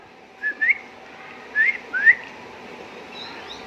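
A person whistles several short, bright rising notes, two quick pairs close together, then falls quiet against a low background hum.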